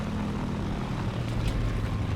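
Large propeller aircraft engines rumble steadily while the plane taxis toward a hangar in the War Thunder video game, a dense continuous drone with low throbbing tones and no talking.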